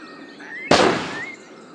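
A spell cast in the Harry Potter and the Chamber of Secrets video game lets off a single sharp, bright burst that crackles and slowly fades, with faint whistling tones before and after.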